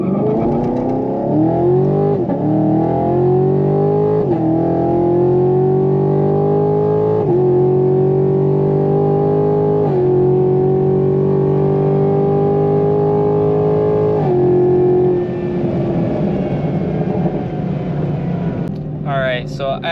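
A Chevrolet Camaro SS engine revs and holds steady on launch control, a loud, close drone climbing in stepped surges and then sustained for several seconds before dropping off near the end, with a voice talking over it.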